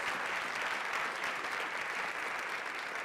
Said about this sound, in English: Let's commend our candidates and give them a warm round of applause.